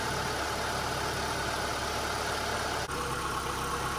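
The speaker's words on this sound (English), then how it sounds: "the engine is really rocking back and forth." A 2002 Mitsubishi Lancer engine idles steadily with a constant low drone and vibration while rocking back and forth, close and continuous, with one brief dip in the sound.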